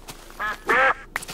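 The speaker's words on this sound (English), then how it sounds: "These ducks are fucking noisy, man." Ducks quacking nearby, two loud nasal quacks in quick succession followed by a brief softer call, clear against quiet background.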